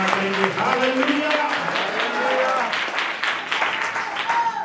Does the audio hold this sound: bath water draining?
no